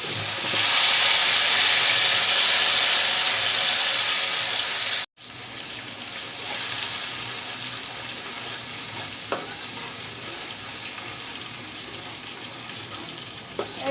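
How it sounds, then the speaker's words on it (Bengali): Blended onion fries in hot oil for a katla fish curry, giving a loud, steady close sizzle and hiss. A brief cut breaks the sound partway through, and the frying carries on with faint stirring clinks and no voices. "ব্লেন্ড করা পেঁয়াজটা আগে কষিয়ে নিব"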